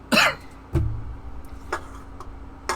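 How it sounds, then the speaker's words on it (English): A single harsh, close cough followed by a low throaty sound, then faint ticks and small noises in a quiet room. "Still coughing up the storm"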